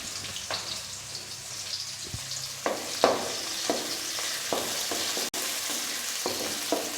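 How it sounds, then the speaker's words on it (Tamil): Onions frying in a pan for fish curry, a constant close hiss of hot oil with occasional scrapes and taps of a stirring spoon, and no voices. "வெங்காயத்தை போட போகிறோம் வெங்காயத்தை போட்டு"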